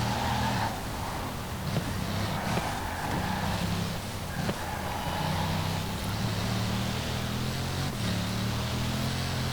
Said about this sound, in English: Still the same W16 8-litre quad turbo engine.